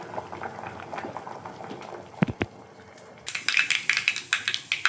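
Toor dal sambar bubbles in a pot on the stove, a soft, steady burble with a couple of sharp knocks midway, then a brighter, louder hissing and spattering toward the end.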